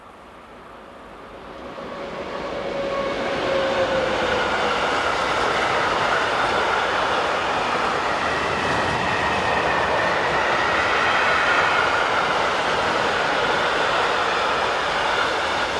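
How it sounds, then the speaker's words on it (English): An SNCF BB 26000 electric locomotive, number 26195 in orange and concrete grey livery, hauls a southbound train past at close range, a steady loud rumble of wheels and cars building in over the first few seconds and holding throughout. "A southbound service next, headed by BB 26000 Electric, number 26195, still sporting its original orange and concrete grey livery"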